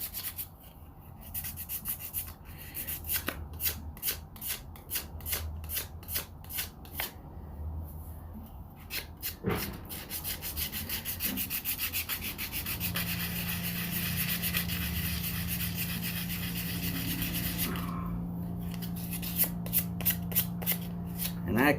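Repeated back-and-forth scraping of 120 grit sandpaper on an old tobacco pipe, quick rasping strokes in bursts with short pauses and a steady hum underneath.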